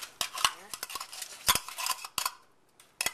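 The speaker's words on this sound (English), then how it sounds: "So we're going to add in our mushroom pieces and stems." Canned mushroom pieces and stems tumble into a pan, with a quick series of sharp metallic clinks and scrapes of a utensil against the pan and a can, close and fairly quiet, followed by a short pause.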